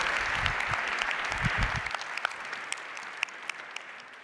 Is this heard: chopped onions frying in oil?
no